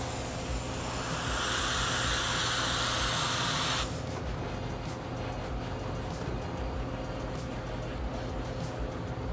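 Spray adhesive hisses steadily from an aerosol can inside a BMW interior for about four seconds, close and loud, then cuts off to a low background rumble.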